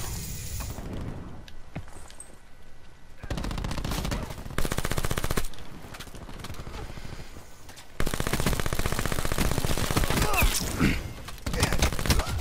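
Automatic fire from the VMP submachine gun in Black Ops 4, sustained bursts of rapid shots with short pauses between, loud and close throughout.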